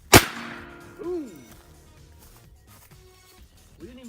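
A single sharp bang from firecrackers exploding on a guitar at the start, followed by faint ringing and quiet voices reacting in the background.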